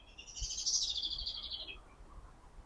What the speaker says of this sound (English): I feel like the birds are laughing at me.